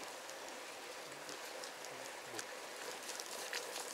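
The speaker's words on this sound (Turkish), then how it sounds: "bu tatlı yağmur" Light rain falling on an evening in Marmaris, Turkey in late November, a soft, steady hiss of drops with a few faint low sounds underneath.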